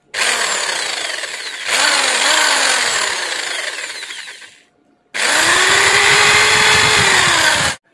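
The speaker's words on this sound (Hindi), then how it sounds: "तो इसके लिए हम यहाँ पे ड्रिल का इस्तेमाल करेंगे सुराख करने के लिए।" An electric drill bores holes in parts for a homemade aquarium air pump. It gives three sustained whirring bursts with a short silent pause before the last one.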